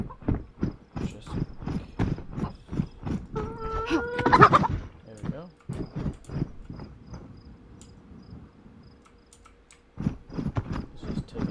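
A chicken in DayZ clucks nearby, several short calls heard over steady rhythmic footsteps, with someone talking briefly.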